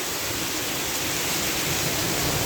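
A sudden heavy downpour roars close by as a loud, unbroken wash of hissing rain with no gaps and no voices.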